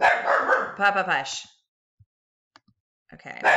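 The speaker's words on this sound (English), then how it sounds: "Oh, that's my dog." A pet dog at home barks and yips a few times up close while a person speaks over it, then a quiet stretch with faint thumps before the voice resumes.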